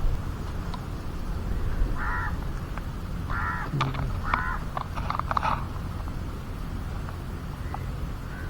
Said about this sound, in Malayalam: ഇവിടെ മുഴുവൻ കാക്കയാണ്, ഇഷ്ടംപോലെ കാക്ക.